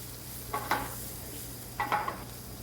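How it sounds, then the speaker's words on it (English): Onions stirred in a frying pan for a veggie omelette: two short scraping stirs with a soft sizzle, close and moderately loud over a steady low hum, no talk. "Now it goes in my onions. Notice how long it takes. This stuff does not take long at all. All right, I'm just going to stir it around."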